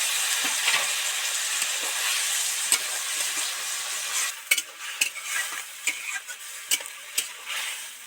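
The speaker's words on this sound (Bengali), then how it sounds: "এবার জল দিয়ে দেবো অল্প পরিমাণেই জল দেব" Water poured into a pan of frying snake gourd (chichinga) for a Bengali dopeyaja: a steady hiss of sizzling that eases off, followed by scattered clacks of stirring, close by and without speech.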